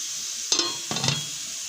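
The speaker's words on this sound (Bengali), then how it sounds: "এখন সুন্দর করে একটু নেড়ে চেড়ে দিচ্ছি" Two quick scraping stirs move chicken curry around a pan over a faint steady sizzle.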